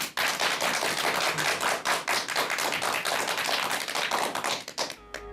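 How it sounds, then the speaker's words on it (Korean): Lecture-hall audience applause, steady loud clapping from many hands lasting several seconds before fading out, with no talk over it. "여러분 큰 박수 부탁드리겠습니다"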